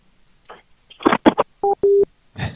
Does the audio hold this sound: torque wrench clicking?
no